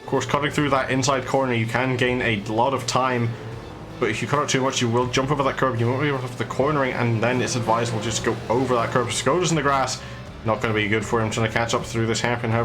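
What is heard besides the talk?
No everyday noises stand out.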